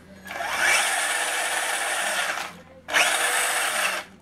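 Drivetrain of a Tamiya CC01 radio-controlled car spinning its wheels, two whirring bursts of about two seconds and one second, close and fairly loud, separated by a short pause.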